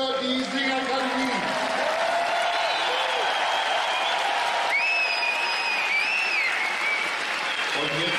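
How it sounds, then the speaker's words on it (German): A stadium crowd at an outdoor Christmas carol singing event applauds the Singakademie choir, with sustained dense clapping throughout, loud and steady, while a voice talks over it. "Und deswegen nochmal Applaus für die Singakademie"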